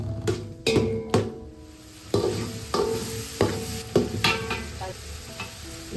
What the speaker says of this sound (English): Add tomatoes and cook them until they are soft and mushy.